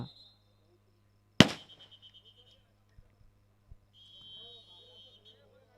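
Firecrackers go off at an outdoor kabaddi final. One sharp, loud bang rings out with a brief echoing tail, followed later by a couple of faint pops. Insect-like chirps sound in the background.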